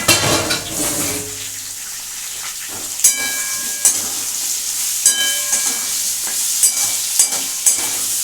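Mushrooms dropped into hot oil in a pan for a paneer mushroom masala, a loud sizzle that settles into a steady frying hiss, broken by sharp clinks and scrapes of stirring.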